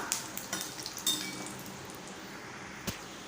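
Mustard seeds, a little asafoetida and curry leaves crackle in hot oil, with soft popping and a few light utensil clinks over a quiet, faint sizzle.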